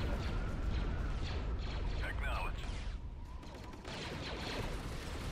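Rapid blaster fire crackles through a dense, continuous Star Wars video game battle, laid over a steady roar of combat noise with scattered laser zips, while a voice talks over it.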